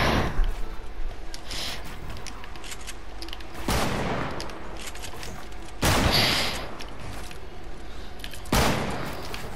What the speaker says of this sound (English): They're shooting at Marcel's building.